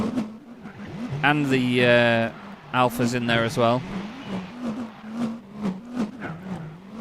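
A race car engine in Gran Turismo 4 revs and whines in rising and falling gear sweeps, with a second car buzzing by, while someone talks over the engine noise.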